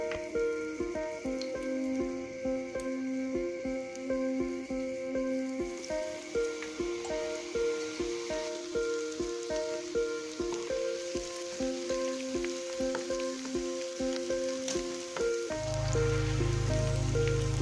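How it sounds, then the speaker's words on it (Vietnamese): Rice frying in hot oil in a wok for Yangzhou fried rice, a steady dense crackling sizzle like rain running the whole time, close and fairly loud, with background music and no talk. "mình sẽ bắt đầu chiên cơm nha"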